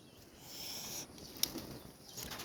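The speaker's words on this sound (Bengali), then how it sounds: "ওই যে দুইটা নতুন কবুতর, ওই যে জোড়া, সেই দুইটা উড়ে গেল।" Pair of newly kept pigeons taking off from a home loft, a brief quiet flutter of flapping wings with a sharp snap of takeoff, fading as the birds fly away.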